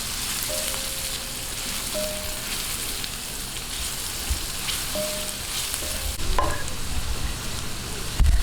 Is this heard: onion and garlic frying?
yes